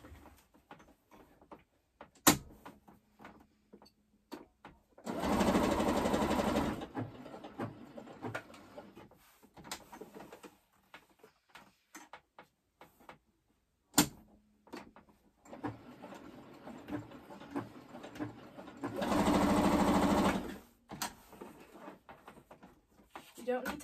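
A sewing machine stitching a pleated fabric mask runs in two steady whirring bursts of about two seconds each, set among small clicks and handling noises, with a person talking quietly in between.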